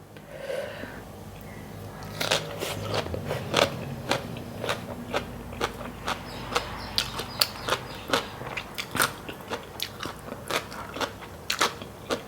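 Repeated sharp crunching bites into a thick, crispy food, about a dozen distinct crisp cracks in an irregular rhythm, close and clear with only faint background sound.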